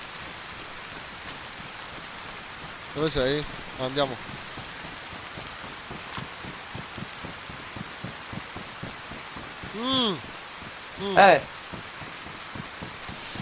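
Steady rain pours in a zombie survival video game, a dense hiss running throughout beneath Italian voices that talk over it in short bursts.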